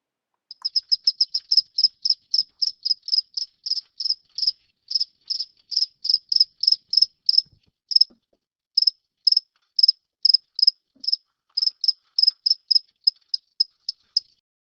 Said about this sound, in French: Une troisième manière de communiquer est d'émettre des sons. C'est le cas chez les grillons.